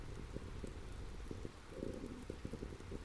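Steady rain falls outside a large window overlooking an abandoned place, a dense continuous hiss with scattered drops and patter, no voices.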